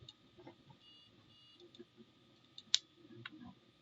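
Computer mouse clicks while drawing in CAD software, sparse small taps scattered over a faint hum, with one sharper click standing out near the end.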